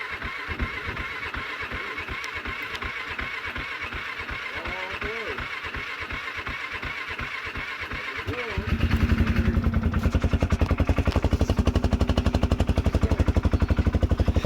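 A motorcycle engine with a gel battery and custom exhaust cranks in rapid regular pulses, then catches and settles into a loud, steady, fast-firing idle on choke, close by.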